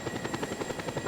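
A helicopter in Just Cause 2 gives a steady rapid rotor thump with a constant engine whine, moderately loud and alone.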